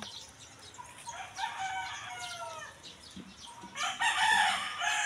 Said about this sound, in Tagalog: Oh, may ibon na.